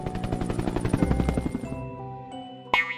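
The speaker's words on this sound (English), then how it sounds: "H is for helicopter." A cartoon-style helicopter sound in a children's alphabet lesson, a fast chopping rotor pulse that fades out after about a second and a half, followed by sustained musical tones and a short bright chime.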